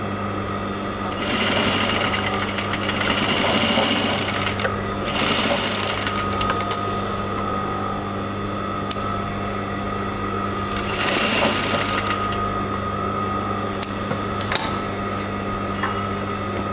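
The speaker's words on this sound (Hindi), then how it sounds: "ये जो हमारी स्टिचिंग लाइन है, इसके इस पोर्शन में हमें मशीन चलानी है।" A sewing machine stitches along the seam line of a garment, a loud close whirring motor running in bursts with brief slowdowns, over a steady background hum.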